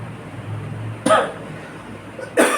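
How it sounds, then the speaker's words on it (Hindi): A teacher coughs twice, short harsh bursts near the microphone separated by about a second of quiet room tone, during a class lesson. "खांसी आ रही है मुझे"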